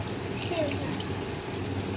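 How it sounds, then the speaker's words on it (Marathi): Raw chicken being rinsed in water gives a soft, steady pour and trickle, quiet and close, with faint room noise and no clear talk. "आपण हे व्यवस्थित 3-4 पाण्यातून धुवून घेऊया."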